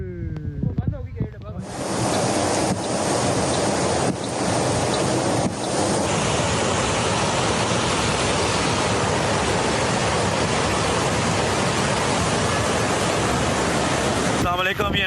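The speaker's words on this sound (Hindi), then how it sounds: "ये मीनारा यू टर्न पे ये बहुत शदीद पानी का दबाव है" Monsoon floodwater rushes hard across a road U-turn in Pakistan, a loud continuous roar that begins abruptly after a brief noisy moment and holds steady, close and powerful, for over ten seconds.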